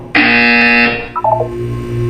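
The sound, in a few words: buzzer in a video game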